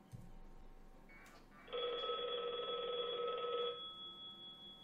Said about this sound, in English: So what that did is that rang my computer.